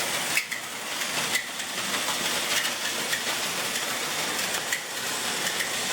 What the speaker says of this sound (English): So that Thomas doesn't collide with the first train in front of it